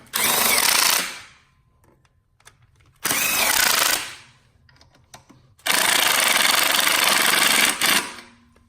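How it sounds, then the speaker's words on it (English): A tool tightens 13mm nuts while a turbo blanket is installed on a Fiat 500 Abarth, giving three loud, close whirring bursts of one to two seconds each, separated by quiet pauses. "take your 13mm and tighten them down"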